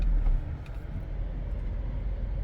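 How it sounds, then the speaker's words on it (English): A Jeep Compass 4x4 Limited SUV rolls over dirt and gravel, giving a steady low rumble of engine and road noise heard from inside the vehicle with no talking. "this Jeep Compass performs off-road, dirt as well, gravel,"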